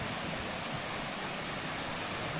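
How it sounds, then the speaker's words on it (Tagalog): A river flows along a hiking trail near hidden waterfalls east of Tagaytay, a steady broad rushing hiss of water, constant and fairly loud with no voices. "Yan ang ilog."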